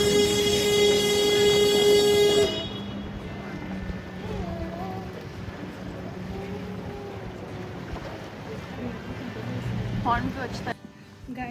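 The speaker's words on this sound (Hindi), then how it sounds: "हॉर्न तो अच्छा है।" A long, loud, steady boat horn blast sounds for a couple of seconds over wind and engine rumble in Venice, then gives way to boat noise and background voices.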